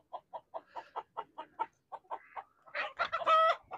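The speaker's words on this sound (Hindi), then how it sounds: "ये देखें, ये सब मुर्गियाँ हैं।" Chickens kept in a pen on a hilly farm give a series of short, clear clucks, building into a louder, more agitated squawk near the end, with no voices.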